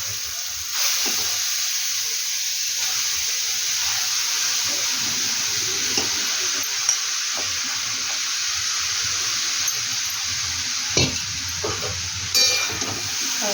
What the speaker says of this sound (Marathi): तर आपण खिसलेले गाजर टाकून घेऊ